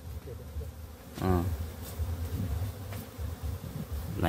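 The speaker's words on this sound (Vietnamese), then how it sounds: "Ong này hơi mạnh này, ong này đẹp lắm này" Honeybees swarm and buzz at hives set among coffee blossoms, a steady dense drone with a louder surge as a bee passes close, the hum continuing throughout with no talk.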